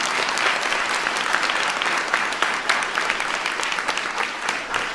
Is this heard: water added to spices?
no